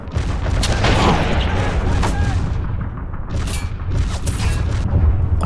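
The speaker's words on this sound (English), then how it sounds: "Molotov and an anti-tank cannon opens up" An anti-tank cannon and other weapons fire in the WWII strategy game Men of War: Stalingrad, with loud battle booms and gunfire layered densely under steady talking.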